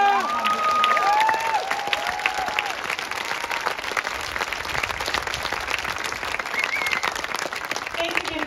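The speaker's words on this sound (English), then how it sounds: "Let's give them one more round of applause" Audience applause and cheering after a community concert band performance, loud and dense clapping with whoops and shouts throughout, a few higher voices calling out near the start.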